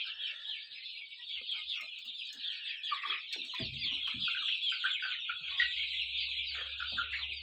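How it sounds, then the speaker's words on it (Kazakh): A Brahma rooster in a small backyard flock with chicks makes a steady run of clucking and chirping calls, moderately loud and close by, with other birds mixed in and no talking. "Мынау тұр міне қораз. Қораз брама."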